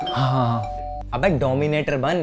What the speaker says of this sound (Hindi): कब से डोरबेल बज रही है? खोल क्यों नहीं रहे हो?